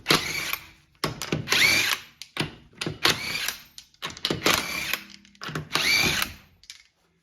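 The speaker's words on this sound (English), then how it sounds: "Remove the rear wheel using a 19mm socket." Impact wrench spinning off the 19mm lug nuts of a rear wheel on a 2007-2012 Acura RDX raised on jack stands, in four loud rattling bursts separated by short pauses, with no talk.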